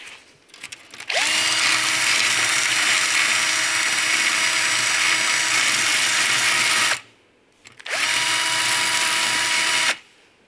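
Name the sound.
drill with wire brush cleaning paint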